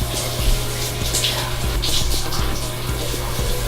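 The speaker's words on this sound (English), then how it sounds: "that's where I turn the water on" Shower water running in a home bathroom, a steady broadband spray with a low hum underneath, continuous and fairly close throughout.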